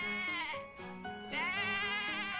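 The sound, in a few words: goat bleating, from the video game Professor Layton vs Phoenix Wright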